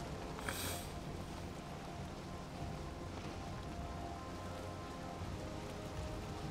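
Rain falls over the open ocean while sailing in the video game Valheim, a dense, steady hiss of drops with a brief sharper splash burst near the start, unbroken by voices.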